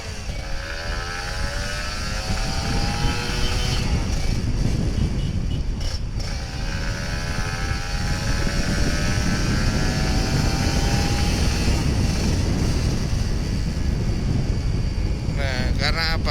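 Old Kawasaki Ninja RR 150 two-stroke motorcycle engine running steadily up close, its buzzing note rising and falling as the throttle is blipped, with a voice talking over it.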